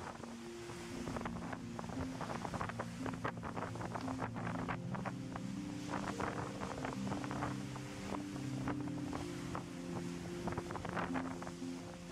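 A boat sails through an easy swell off Heimaey, Iceland, with steady wind buffeting the microphone, low hull and engine tones, and repeated splashing surges of water against the hull.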